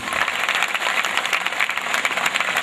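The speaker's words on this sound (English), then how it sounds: "Please, audience, we need a huge round of applause for it." Audience applause for the K. Modi Foundation at the Spandan-10 event, a dense, steady wash of many hands clapping at close range, holding evenly throughout with no voices on top.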